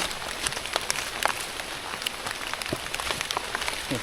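Heavy rain pours steadily during mushroom foraging outdoors, a dense continuous hiss with scattered sharper drops pattering on nearby surfaces, close and fairly loud with no talk.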